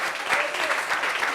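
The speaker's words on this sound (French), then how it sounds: "Applaudissements pour ça" Applause from a studio audience on a French-language dating reunion show, a dense, steady patter of clapping that fills the short moment at moderate loudness.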